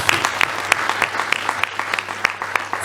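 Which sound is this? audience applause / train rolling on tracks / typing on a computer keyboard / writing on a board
audience applause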